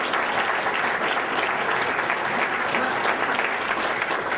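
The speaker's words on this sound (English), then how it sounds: "give her a round of applause" A crowd claps at a restaurant opening evening in Sheffield, producing a continuous, even round of many hands that holds steady throughout at moderate distance.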